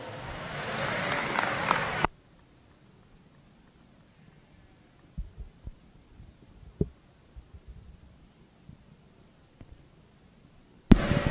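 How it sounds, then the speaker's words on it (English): Audience applause at a market lamb showmanship class in a sheep show ring, a brief burst of clapping for about two seconds that stops abruptly, followed by near silence with scattered faint knocks and small sounds. "Let's pay them off all with another round of applause."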